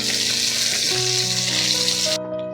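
Sliced onions fry in hot oil until deep red for birista, making a loud, dense, continuous sizzle with a faint tonal hum beneath; the sizzle cuts off abruptly near the end.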